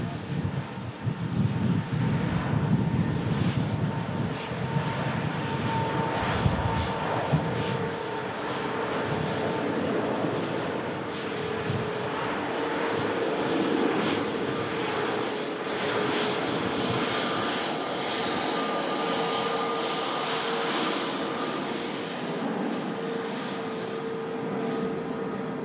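Large fixed-wing airliner taking off, its engines roaring loud and steady throughout with a broad rumble and a faint whine, caught outdoors on a directional microphone.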